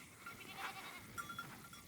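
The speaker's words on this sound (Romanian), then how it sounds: "Dă capra mică." A small goat bleats faintly from a little distance, two brief wavering calls over quiet outdoor background.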